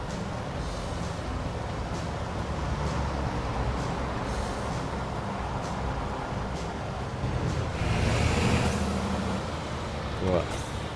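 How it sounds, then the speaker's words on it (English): Ford F-MAX truck engine in Euro Truck Simulator 2, heard from an external view: a steady low rumbling drone that holds throughout, swelling briefly louder near the end, with a short hiss like an air brake. "Let me do an external shot if I can, or the external engine sounds again."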